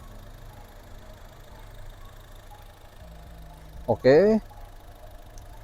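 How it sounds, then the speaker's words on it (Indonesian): A Honda Brio Satya's engine idling smoothly under the open hood, a low steady hum that stays quiet and even, briefly interrupted near the end by a short spoken word. "Suara mesinnya masih halus banget."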